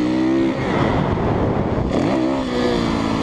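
Motocross bike engine roaring steadily at high revs through a corner and upshifting, with a brief dip in pitch as the gear changes before the engine pulls hard again, loud and close throughout with no talking.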